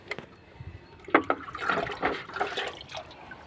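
Liquid compost pours and splashes onto tomato plants in a garden, a short burst of close, trickling and spattering liquid with no talking.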